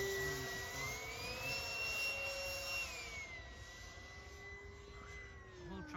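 A Hobbyking Vampire V3 RC model jet airplane flies past, its electric ducted-fan whine sliding smoothly in pitch as it banks overhead, fairly faint and steady with no talk over it.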